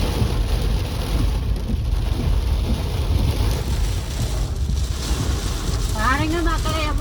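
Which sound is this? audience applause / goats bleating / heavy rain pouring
heavy rain pouring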